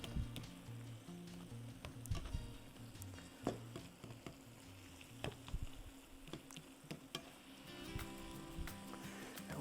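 Seasoned quesadilla filling sizzles and crackles in a hot pan, a steady close fry with scattered pops and occasional stirring scrapes throughout.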